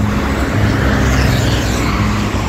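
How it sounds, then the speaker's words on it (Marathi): Steady, loud roar of vehicles on an expressway highway near Pune, a continuous close wash of car and road noise with no voices. "हा एक्सप्रेस हायवे असतो."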